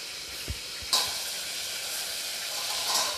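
Tomato slices fry in a covered pan for an aloo tamatar dish, giving a soft, steady sizzle with a couple of faint clinks and a brief lid or utensil sound near the start.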